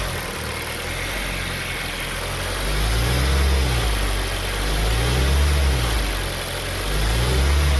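Hot Hyundai ix35 G4KD diesel engine after an overhaul, heard up close idling with a deep steady drone that rises in a few slow, mild revs and settles back, with no talking.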